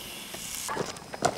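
Side pork sizzling and hissing in a frying pan, a soft steady fry with a few brighter pops and crackles, close and fairly quiet, no talk.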